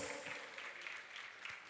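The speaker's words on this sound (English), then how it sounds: "let's give Nyana and the Draman Foundation an even bigger round of applause." An audience at a foundation launch event gives a round of applause, heard as faint, distant, continuous clapping.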